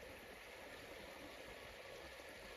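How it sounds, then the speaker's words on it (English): Lake water at full capacity overflowing through a spillway on a family homestead, a continuous faint rushing wash heard from a distance, with no voices. "our lake is at full capacity and overflowing through the spillway all the way down here"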